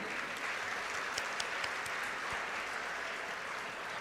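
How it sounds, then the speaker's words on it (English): Audience at a university convocation ceremony applauding, a broad, even wash of clapping heard from some distance, steady and sustained throughout. "Big round of applause to them."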